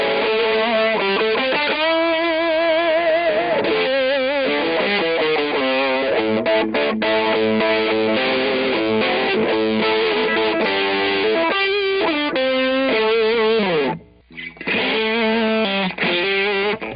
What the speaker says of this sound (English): Here I'm going to disengage the distortion and use it as an EQ alone.